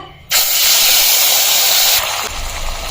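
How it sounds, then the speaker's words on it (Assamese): Fish dropping into hot oil in a pan for an Assamese fish dish, bursting into a loud, steady sizzling hiss that settles slightly after a couple of seconds. "মাছে দি দিলো এটা ধুনীয়াকৈ ভাজি লম"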